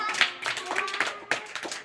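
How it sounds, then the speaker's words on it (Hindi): Third-grade children in a classroom clap for a classmate, a brief, close burst of uneven claps lasting under two seconds. "ताली बजाओ भाई इसके लिए"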